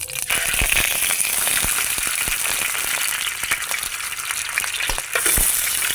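Pork hock fries in hot oil in a pan, a loud crackling sizzle with many sharp pops and spatters spread across the whole span, with no talking.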